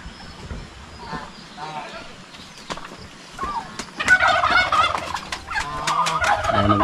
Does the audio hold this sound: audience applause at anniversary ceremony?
no